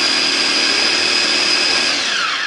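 A blender grinds red curly chilies, bird's eye chilies, green chilies, garlic and shallots with a loud, steady high whir that holds for the whole stretch, dipping slightly in pitch near the end.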